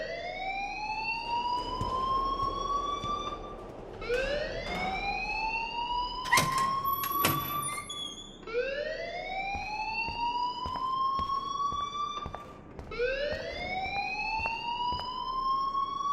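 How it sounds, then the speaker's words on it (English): A video game alarm in Life is Strange wails in repeated rising sweeps, each lasting about four seconds, loud and steady with a brief clattering noise in the middle. "please turn off that alarm since that's your job"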